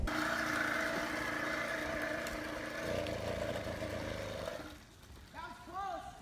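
A small two-stroke motorbike engine runs with a steady buzzing drone that drops away near the end, followed by people talking.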